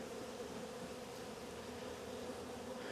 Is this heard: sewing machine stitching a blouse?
no